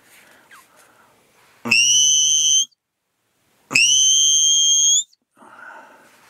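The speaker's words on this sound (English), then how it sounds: "the look back whistle, which is kind of different, you hum and blow the whistle at the same time" Two loud, close blasts on a dog-training whistle, each about a second long, carry a buzzy rasp from humming into the whistle while blowing, with silence between them.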